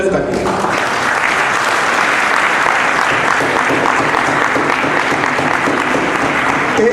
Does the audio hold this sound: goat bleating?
no